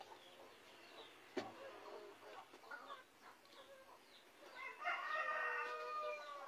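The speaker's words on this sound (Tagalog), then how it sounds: "May ingay yung mga manok." Chickens clucking at a distance under steady outdoor background noise, with a sharp knock near the start and a rooster crowing clearly toward the end.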